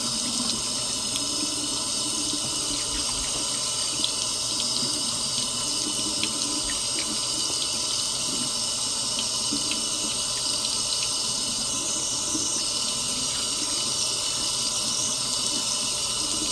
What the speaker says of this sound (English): I like to wash my face with hot water